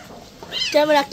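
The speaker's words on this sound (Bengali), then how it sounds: "ম্যাও ম্যাও করে কেন?" A kitten being bathed and dried gives one short, rising meow at the end, clear and close, over faint background noise.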